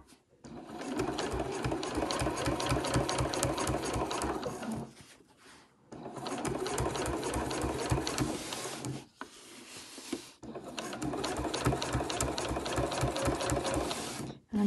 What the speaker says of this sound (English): Do a couple of back stitches to begin with.